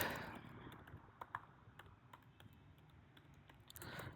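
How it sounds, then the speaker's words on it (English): Quiet, steady clicking of keys on a computer keyboard while code is typed, a continuous stream of light taps with a few sharper strokes and no voices. "what happened to my typing speed?"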